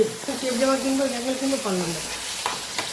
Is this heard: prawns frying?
yes